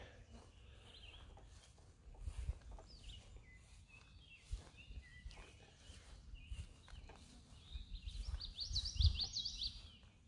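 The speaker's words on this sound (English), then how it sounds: "Towhee singing. Ovenbird." Eastern towhee and ovenbird sing faintly in the woods of an arboretum, with thin, distant phrases standing out most clearly near the end over a low background rumble.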